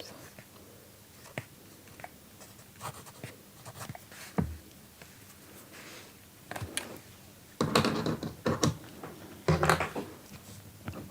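A pen writes on paper for ASMR, making soft scratching strokes and taps, close and quiet, with louder scribbling bursts toward the end and some whispered speech.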